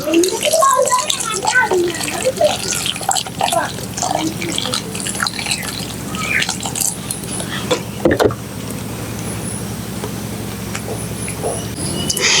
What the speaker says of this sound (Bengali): এবার আমি পরিষ্কার জল দিয়ে এই আমগুলোকে আমি ধুয়ে নেব এখন আমি এর ভিতরে জল দিয়ে দিচ্ছি